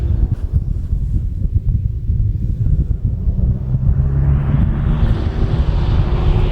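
Wind blowing across a cool mountain rest stop at Khao Kho National Park in Phetchabun, Thailand, heard as a steady low buffeting rumble against the microphone that continues for the whole stretch with no voices.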